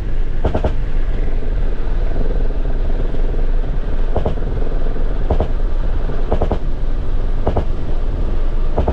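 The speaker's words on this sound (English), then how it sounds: "Encounter between a Ukrainian Mi-24 helicopter and a Russian Geran-2." A loud, steady roar from a Mi-24 helicopter in flight rumbles throughout, with sharp thumping bursts recurring every second or so.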